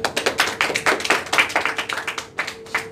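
A lecture audience claps at a motivational talk on success, a scattered, uneven patter of individual hand claps, fairly close and moderately loud, with no one speaking over it.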